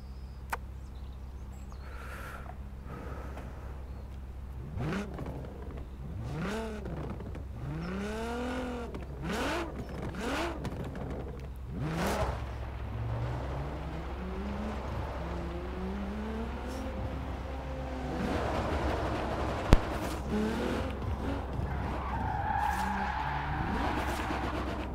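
A 2012 Nissan GT-R in Forza Horizon 4 revs through repeated rising and falling gear pulls, then slides into long tire skids. The engine is loud and close throughout, with squealing rubber building toward the end and no talking.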